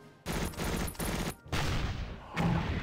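Sustained gunfire in a combat video game battle on farmland, with dense bursts of shots and brief gaps, loud and close.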